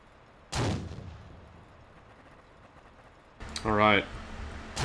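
Tank cannon fire in a tank battle video game with a Panzer III H in play, one loud broadband blast early on and another burst later, with a voice talking over the later part.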